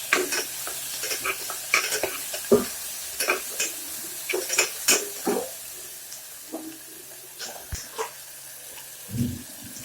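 Ginger and garlic go into tomatoes in a pan for banana stem soup, then get stirred: irregular scraping knocks and soft sizzling close by, with faint watery sounds and no talk.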